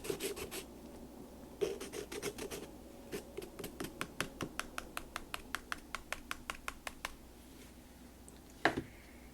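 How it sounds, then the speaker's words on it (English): Quick, rhythmic scratchy strokes of a pencil rubbed on sandpaper, a run of short rasps close by, with a few pauses between bursts. "I'm just sanding my pencil"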